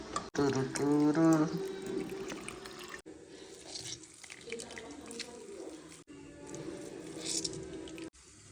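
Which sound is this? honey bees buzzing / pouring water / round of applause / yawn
pouring water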